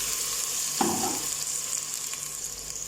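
Washed rice and moong dal frying in a pan for khichdi, a steady low sizzle with one thick wet burst as the grains go in or are turned, then quieter frying and a faint stir.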